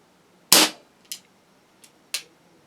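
Webley MkVI .177 CO2 service revolver air pistol firing pellets: one sharp, fairly loud crack, followed by two fainter snapping shots and a tiny click, separated by short pauses in a quiet room.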